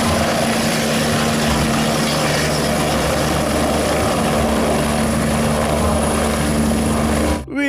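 A toy helicopter's rotor whirs in a loud, steady drone with a constant mechanical hum, ending abruptly.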